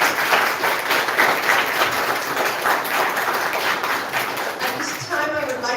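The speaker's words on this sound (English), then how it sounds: "let's give her that real round of applause she deserves" Mourners applaud at a memorial service, a steady round of clapping that fills the room at full level throughout, with a voice starting to speak near the end.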